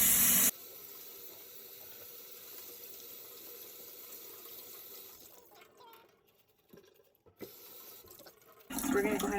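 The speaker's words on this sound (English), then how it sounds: "Okay, so we'll just go ahead and rinse them." Running tap water pours steadily over corn being rinsed in a kitchen sink, a continuous hiss that fades and breaks up partway through before a louder splash returns at the end.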